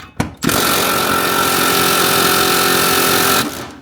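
A power tool loosens the 14mm transmission brace bolts on an Infiniti Q60, with a brief start, then a loud steady whirring buzz for about three seconds before it cuts off.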